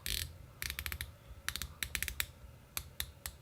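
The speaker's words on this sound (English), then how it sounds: "So getting into the bezel, 120 clicks." An Omega Seamaster Professional Diver 300M's rotating dive bezel gives off crisp, close mechanical clicks in short bursts of quick ratcheting taps separated by brief pauses, with no talking.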